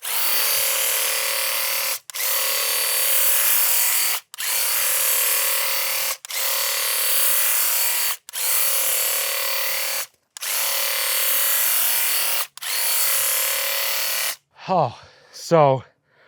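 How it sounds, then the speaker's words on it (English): A tiny quart-sized electric paint sprayer runs in long loud steady buzzing bursts with brief cutoffs while painting a shed, then a person speaks briefly at the end. "It's kind of a small project sprayer, holds a quart."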